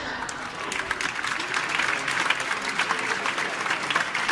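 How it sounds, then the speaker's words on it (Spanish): An audience at a Pontevedra C.F. season presentation applauds with steady, dense clapping from many hands, moderately loud and sustained, with faint voices mixed in. "Un fuerte aplauso y muchas gracias"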